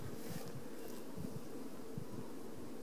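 A steady insect hum of many bees at a large group of beehives on a farm in Bosnia fills the air, with soft wind and a few low thumps, no voices.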